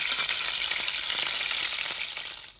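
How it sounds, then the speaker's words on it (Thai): Food sizzling and frying steadily in a hot pan in a home kitchen, a dense continuous crackle close by that fades out at the very end, with no voices. "หลังจากนี้เราก็จะทอดนะ"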